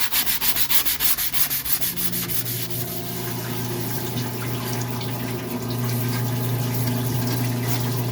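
Hand sanding on a 1983 Mercedes 300CD part with fine 320 grit sandpaper, rapid rhythmic rubbing strokes at first, then a continuous close scraping texture over a low steady hum.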